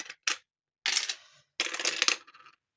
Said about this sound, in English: Let the dice decide.